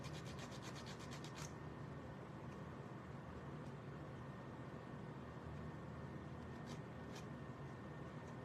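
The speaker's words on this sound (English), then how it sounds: "I forgot about sanding these down." Steady dry rubbing and scraping of sanding on small craft pieces for a fall project, continuous and close throughout, with a few sharper scratchy strokes near the start and toward the end.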